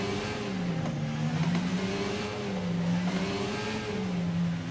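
Race cars in a racing game pull away from behind the safety car on the Azerbaijan circuit, several engines revving and climbing in pitch in overlapping waves, steady and fairly loud with no talk.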